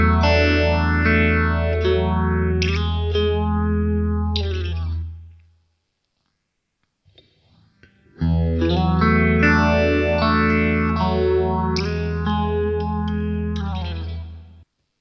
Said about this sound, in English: There's a switch on the side of the unit just here called Stage Feel, and that can cycle through a few different modes, making you feel like you're inside the music.